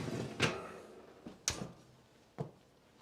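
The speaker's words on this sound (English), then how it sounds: "Let me close the oven door." An oven door being shut in a home kitchen after a chicken casserole comes out, a few distinct thuds and clunks spaced about a second apart, quiet with a short ring after each.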